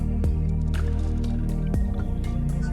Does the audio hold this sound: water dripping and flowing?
yes